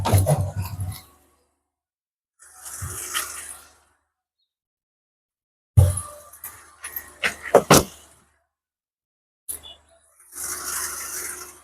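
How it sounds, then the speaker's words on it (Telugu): Trunk of a 2019 Hyundai Santro car being shut, several separate thumps and rattles with short bursts of handling noise between quiet gaps, fairly close, no clear speech. "డిక్కీ క్లోజ్ చేస్తాం."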